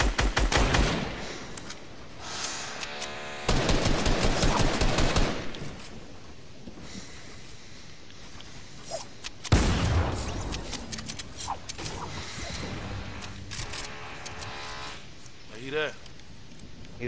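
Gunfire in Fortnite during a squad fight, with bursts of rapid automatic shots and a loud sharp blast partway through, mixed with other game sounds while players talk over the action.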